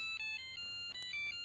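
Monophonic cell phone ringtone playing a song as thin, beeping single-note tones in a quick melodic pattern, fairly quiet and alone.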